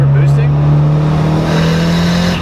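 A boosted car's engine pulls hard in first gear, heard from inside the cabin as a loud, sustained, steady drone with a strong tonal hum throughout.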